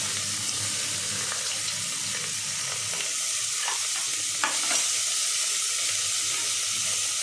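Onion and green chilli frying in a pan for Kashmiri-style mutton rogan josh, a soft continuous sizzle with scattered clicks of a spoon stirring against the pan.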